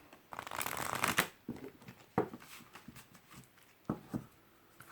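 A deck of Halloween oracle cards is riffled and shuffled at close range, with a dense burst of flapping card noise first and then several softer taps and slides as the deck is handled.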